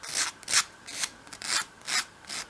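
Repeated rasping strokes of sandpaper rounding over the sharp front corners of a wooden box, five or six back-and-forth passes in a steady rhythm, close and clear with no talking.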